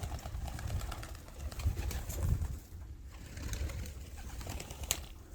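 Young racing pigeons in a loft making low, soft cooing murmurs that rise and fall across the clip, faint and close, with light rustling and shuffling underneath.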